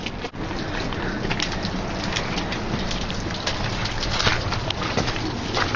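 Steady rainfall patters densely and evenly on surfaces nearby on the John Muir Trail, a continuous hiss of drops with no voices.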